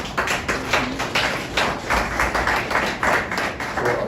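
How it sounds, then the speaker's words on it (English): Audience applause at a regional conference on taxation, a steady wash of many hands clapping throughout, moderately loud and sustained with no talk over it. "Please let us give ourselves a round of applause."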